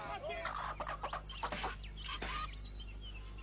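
Cartoon chickens cluck in a quick burst of clucks and squawks over a low steady hum, fading out toward the end.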